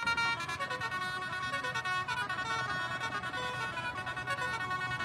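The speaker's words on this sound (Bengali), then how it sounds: "জোরালো হর্ন বাজাতে শুরু করেন।" Protesters blare loud tractor horns in a dense, continuous layered chorus of sustained honking that fills the whole stretch without pause.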